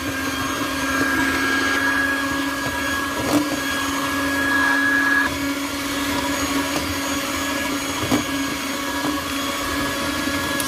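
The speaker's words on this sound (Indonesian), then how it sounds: "kita akan memixer dengan kecepatan rendah. Kita mixer selama 5 menit." An electric mixer works dough at low speed, giving a steady motor whir with a constant tone and faint clicks, running evenly throughout with no voices.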